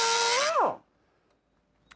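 A Sawzall reciprocating saw cuts through a steel body support on a 1964-72 GM A-body, a loud buzzing whine that winds down and stops abruptly within the first second, followed by near silence and one faint click.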